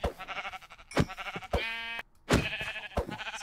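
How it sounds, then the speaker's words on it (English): Sheep bleating in Minecraft, several short wavering blats in a row, clear and close with gaps between calls and no talk. "we found some sheep"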